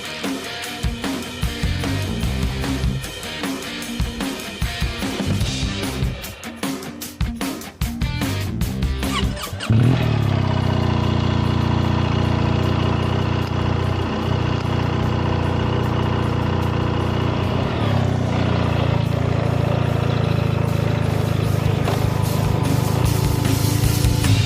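BMW R1300 GSA motorcycle engine at idle: uneven throbbing and clattering at first, then a steady, close, mid-pitched idle hum that holds on without stalling, with no talk.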